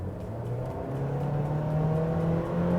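First-generation Nissan Juke accelerating at full throttle from 60 km/h: a steady engine drone climbs smoothly in pitch, moderately loud and continuous, with no talking.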